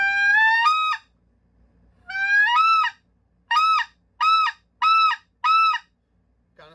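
A speckle-belly goose call is blown close up, giving two drawn-out rising honks followed by four short, evenly spaced clucking notes with clear breaks, loud and alone.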